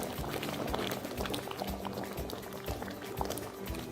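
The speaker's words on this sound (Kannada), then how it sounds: "ನೋಡಿ, ಚೆನ್ನಾಗಿ ಕುದೀತಾ ಇದೆ." Dal boiling hard in a pot on a gas stove, a steady, dense bubbling and popping that carries on without a break throughout, fairly close and with no voices over it.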